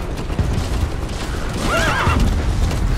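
Horse neighing in Metal Gear Solid 5, one loud wavering whinny over a busy bed of hoofbeats, rumbles and game noise.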